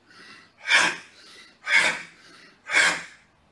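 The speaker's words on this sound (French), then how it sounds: "on fera 3 séries d'une dizaine de souffles où on inspire et on expire" Rapid yoga breathing, three loud forceful breaths at a steady rhythm, each with a softer inhale in between, close and unaccompanied.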